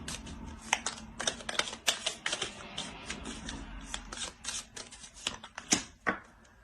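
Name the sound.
shuffling tarot cards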